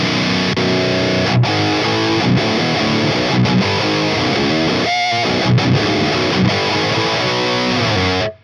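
High-gain electric guitar through a Brunetti amp, tuned low for modern metal, plays a dense, distorted riff of chugging palm-muted chords with brief pauses, loud and continuous before cutting off at the end.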